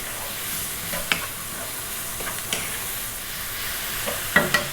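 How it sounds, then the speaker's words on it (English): Vegetable fried rice stir-fried over high heat sizzles steadily, with occasional sharp scrapes and clacks of a utensil stirring against the pan. "High heat, 3 minutes, pretty much stirring all the time."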